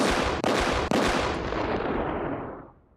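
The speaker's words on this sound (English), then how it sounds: "Gunshot salute for that." Gunshot salute fired as a sound effect: two loud, sharp blasts in quick succession, each with a booming crack, leaving a long rolling echo that slowly fades away, with no voices.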